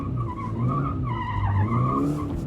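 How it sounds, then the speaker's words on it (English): Tires of a Toyota GR86 automatic squeal and skid continuously while it does donuts, a loud, wavering screech over a steady engine drone, held close for the whole stretch. "stab the throttle to dislodge the back end, and just keep it going with precise throttle control"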